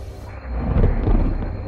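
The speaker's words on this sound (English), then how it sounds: "The sky between Detroit and Phoenix is filled with storms." Deep, rolling thunder from a storm over the airspace between Detroit and Phoenix, a low rumble that swells and lingers loudly with no voices over it.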